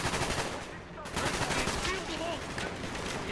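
Dense, continuous automatic gunfire from the Call of Duty: Black Ops campaign fills the scene, sustained bursts with a brief pause near the start, loud and busy with game effects.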